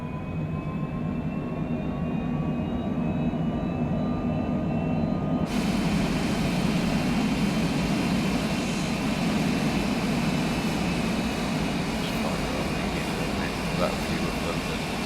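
Jet engines of a Cessna Citation Longitude in Microsoft Flight Simulator 2020 after takeoff with power pulled back, a steady, even broadband roar throughout with no breaks.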